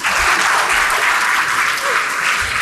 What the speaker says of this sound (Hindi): अब तो तालियां बनते।